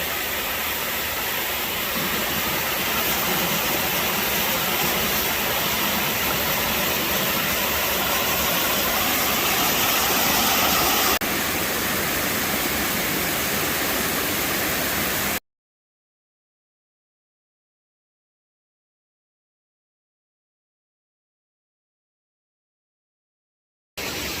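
Steady broadband rushing of a waterfall on a Virginia hike, loud and continuous for about fifteen seconds before cutting to silence.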